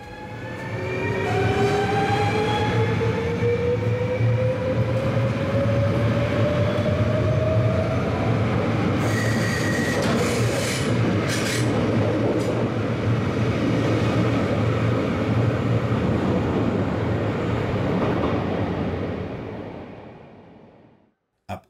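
A Swiss double-deck multiple-unit train with motorized end cars runs on rails, a loud sustained rumble and rolling roar with rising whine as it passes close by, fading out at the end without voices.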